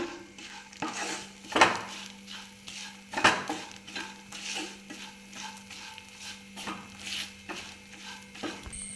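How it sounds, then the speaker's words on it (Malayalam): Prawn chutney is stirred in a pan with a spoon, giving repeated close scraping and clinking strokes over a light sizzle, and no one talks. "ഇനി നമുക്കത് നല്ലതായിട്ട് ഇളക്കി എടുക്കണം"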